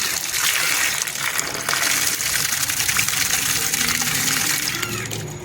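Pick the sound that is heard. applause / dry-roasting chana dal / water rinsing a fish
water rinsing a fish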